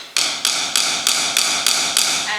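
Drumstick held in a tense grip striking a hard surface, seven dead, evenly spaced taps with no bounce or rebound, crisp and close with nothing else heard.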